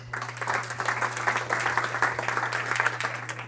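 An audience applauds during a law conference session: steady, dense clapping from many people lasting the whole stretch, moderately loud, over a constant low electrical hum.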